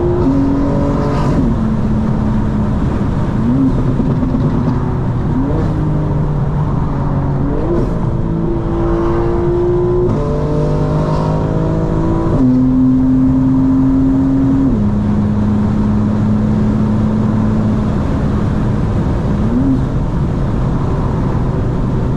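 Tuned 900-horsepower 2025 BMW M4 Competition launching and accelerating hard, its engine loud and close as it climbs through a series of gear changes, rising pitch then dropping with each shift.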